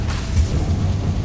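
A Confringo fire spell bursts in Hogwarts Legacy, a short, deep, rumbling boom with a muffled low-end blast and no voices.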